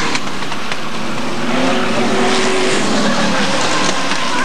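Hotstox race cars racing around the Skegness oval, a loud, constant roar of engines with squealing tyres, close and sustained, with a commentator faintly underneath.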